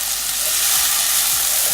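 Tomatoes dropped into a pan of frying onions, ginger and garlic produce a loud, steady hiss of sizzling oil, close and continuous, with faint stirring scrapes underneath.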